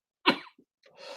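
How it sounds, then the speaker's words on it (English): A single sharp, close cough bursts out, followed by a short breath and a faint throat noise, then some rustling. "I hate coughing on screen like that."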